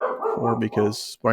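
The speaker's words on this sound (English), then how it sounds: "You have to excuse my dog barking in the background." A dog barks off in the background while someone talks over it, the yaps blending under his steady voice.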